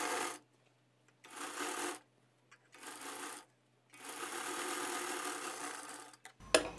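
A sewing machine stitches a boat-neck lined blouse with double-stitched princess-cut seams. It runs in four separate bursts of differing length, the last one long, then stops with a sharp click.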